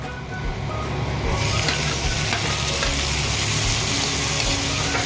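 Tomatoes hit a hot wok of chicken and broccoli stir-fry in oyster sauce, setting off a loud, steady sizzle with stirring scrapes that swells after the first second and holds strong to the end, with no talk.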